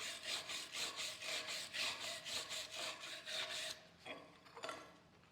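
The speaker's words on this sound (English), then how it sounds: "I'm going to use a normal brush." A hand brush scrubs slag off a 6010 stick weld in quick, even back-and-forth strokes, a rhythmic scratchy rasping that stops partway through before a few scattered scrapes.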